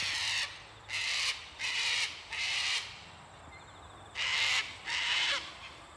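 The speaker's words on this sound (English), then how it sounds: "The hooligans of the bush, the cockatoos, or I'm not sure if I couldn't see a sulphur crest, so there's some sort of cockatoo or galah." Cockatoos or galahs squawk in misty Australian bush, harsh grating calls repeated in a loose series of about six, fairly close and loud, with a quiet background between calls.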